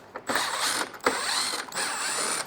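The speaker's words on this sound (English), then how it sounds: "let's take all of the bolts out, or the screws here, for our front lower bumper" A ratchet turns out the front lower bumper screws on an 08-13 BMW X5 E70, giving close, quiet bursts of rapid clicking in three short runs with brief pauses between them.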